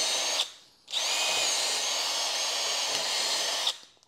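A power drill chamfers a hole in a Ford 302 engine block: a brief high-pitched whine, a short pause, then a longer steady run of about three seconds before spinning down, close up with no speech.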